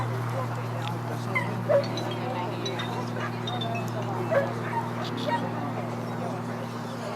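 At a dog show, a dog gives a few short whimpers and yips over a constant low hum while people talk nearby.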